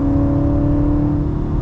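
Car engine held at steady high revs near 4,000 RPM while being pushed toward 4,500 during a data-logging run, a continuous droning whir with no break over the short stretch.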